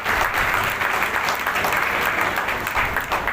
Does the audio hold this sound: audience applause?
yes